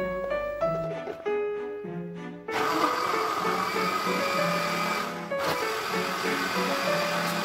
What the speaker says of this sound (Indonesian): Kemudian kita blender labu kuningnya hingga halus.